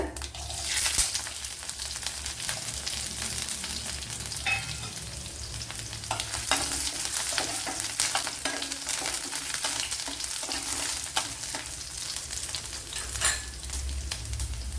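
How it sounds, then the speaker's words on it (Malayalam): A quarter teaspoon of cumin with garlic and ginger fries in hot oil, crackling and sizzling close by. Frequent sharp pops and spatters ride over a steady hiss, with some stirring scrapes in the pan, and no voices. "ഒരു കാൽ ടീസ്പൂൺ ജീരകം ഇട്ട് കൊടുക്കുക അതുപോലെ വെളുത്തുള്ളി ഇഞ്ചി"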